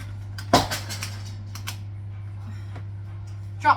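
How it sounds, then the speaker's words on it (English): A metal whisk dropped in a home kitchen while making chantilly cream, a single sharp clattering impact followed by a few small rattles and light clinks over a steady low hum. "Drop my whisk."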